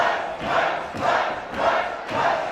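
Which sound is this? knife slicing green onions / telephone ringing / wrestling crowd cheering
wrestling crowd cheering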